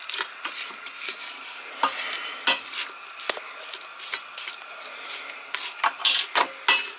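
Scraping down a bowl of bread dough before baking in a wood cook stove: a rapid series of close utensil scrapes and taps against the bowl, irregular in rhythm, with no talking.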